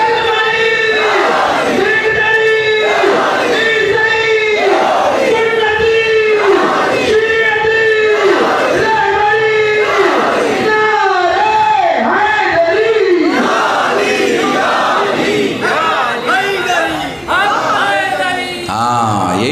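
Crowd at a Muharram majlis chanting religious slogans in loud, rhythmic call-and-response bursts, many voices together repeating steady phrases, close and continuous.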